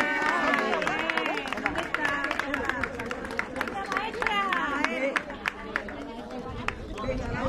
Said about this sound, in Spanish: un aplauso para Paqui.